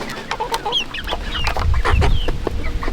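Chickens cluck busily while eating on a homestead, a close run of short, overlapping clucks and chirpy calls over a low rumbling background, with no talking.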